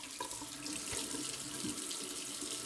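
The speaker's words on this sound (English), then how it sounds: "Let me rinse off with some cold water." Cold water runs steadily from a tap into a sink for rinsing, a constant close rush with no talk.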